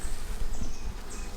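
Bees buzz densely at an opened hive holding hatching cells, a loud, continuous close swarm hum with individual insects whining past.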